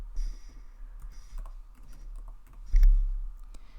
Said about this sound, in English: And you can just type it in directly,